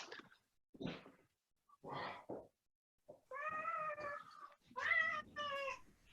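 A house cat meows several times indoors, drawn-out tonal cries with short gaps between, mixed with a few softer sounds earlier, close and clear.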